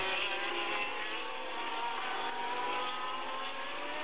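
A 1979 Ferrari Formula One car at the French Grand Prix climbs uphill at full throttle, a steady loud high-pitched engine wail holding near and constant with no talk over it.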